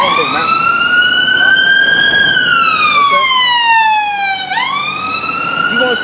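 A wailing emergency siren, most likely an ambulance, rises and falls in long sweeping tones as it passes loudly along a street, with a pitch drop partway through as it goes by.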